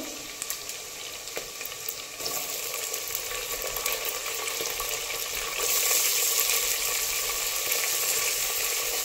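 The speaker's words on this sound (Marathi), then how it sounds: "आता इथे कांदा ही व्यवस्थित आपल्याला परतून घ्यायचा आहे" Chopped onion sizzles steadily in a pan while pavta biryani is being cooked, a continuous bright frying hiss that grows slightly louder partway through, with no talking.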